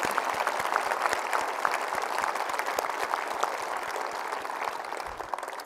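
An audience at Space Center Houston applauds steadily, a sustained crowd of many hands clapping with fine rapid claps throughout, no speech over it.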